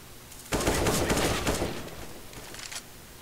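Rapid automatic gunfire from a Counter-Strike match (SK Gaming vs Gambit) erupts loud and dense in a sustained burst, then fades into scattered lighter shots and game ambience.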